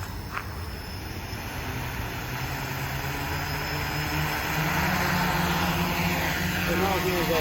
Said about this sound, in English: So now here's a drone that's flying.